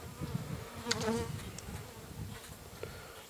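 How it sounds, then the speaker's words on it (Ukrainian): A dense, steady buzzing of many honeybees close by, a humming swarm with a few louder passes rising above the drone. "бджоли починають починають нервувати"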